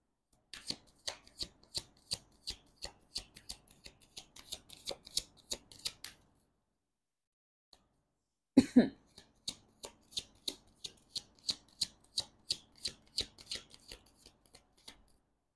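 Tarot cards are shuffled in quick, rhythmic riffles and flicks, crisp papery snaps repeating for several seconds, pausing briefly, then resuming with a sharper slap as a card is drawn and handled further.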